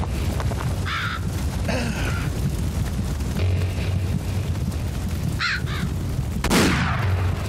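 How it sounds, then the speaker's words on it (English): Crows cawing in the video game The Last Dead End, harsh repeated caws in short clusters over a low rumbling game backdrop, with a heavy boom near the end. "Because I can't deal with crows."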